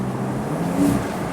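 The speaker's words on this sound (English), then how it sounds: "you get a little bit more wind noise around the edge of the door and basically where the door and the roll hoop meet" Wind rushing around the door edge and roll hoop of a Porsche 911 Targa 4S driving with its windows down, a steady broad roar over low engine and road hum with a brief swell near the middle.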